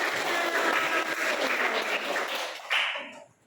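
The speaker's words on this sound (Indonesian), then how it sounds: "kasih tepuk tangan dulu untuk kita semuanya" A crowd of audience members applauds steadily with dense clapping, then the applause swells briefly before fading out.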